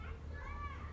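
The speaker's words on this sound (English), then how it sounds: "those children are outside having fun" Children playing outside during recess at a nearby Montessori school, their distant, faint voices rising over a steady low hum.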